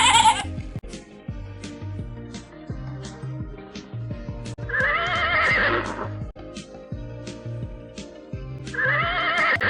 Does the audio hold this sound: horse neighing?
yes